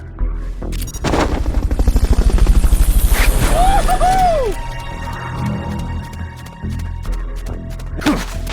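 Helicopter in Metal Gear Solid: Peace Walker, a rotor thrum building to a loud chopping peak and then easing, mixed with gunfire, thuds and rising whooshing tones, a short voice line heard in the middle.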